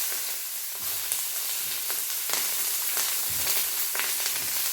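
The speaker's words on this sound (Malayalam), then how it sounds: "പച്ചമുളകും സവാളയും അതും കൂടെ അങ്ങോട്ടിടാം." Onions and green chillies frying in a hot pan with mustard seeds, a loud continuous sizzle close up, broken by several sharp bursts of crackling as the pieces are stirred.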